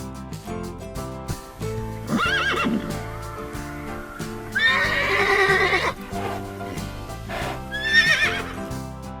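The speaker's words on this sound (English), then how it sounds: "And now we have horse." A horse neighs in three loud, close whinnies, each a long wavering call, over a steady background of music-like tones.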